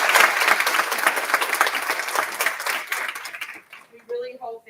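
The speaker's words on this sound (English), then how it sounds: "Let's give a round of applause for our" Audience applause at a municipal clerks' education day, a dense crowd of clapping hands filling the room, steady and fairly loud before tapering off, with a voice starting to speak as it fades.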